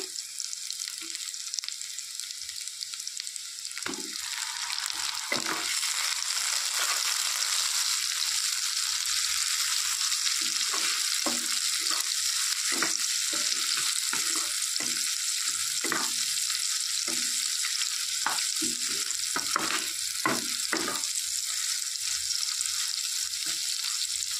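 Onions frying in fish oil in a pan, a steady loud sizzle with scattered stirring scrapes and clicks throughout, no talking.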